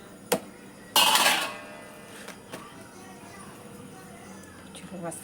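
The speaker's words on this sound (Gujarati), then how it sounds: "તો ફ્રેન્ડ્સ વાસણ સાફ કરી લો" Dishes and utensils are washed in a home kitchen: a sharp metallic clink, then a loud brief splash and clatter, followed by quieter scattered knocks, with a faint voice in the background.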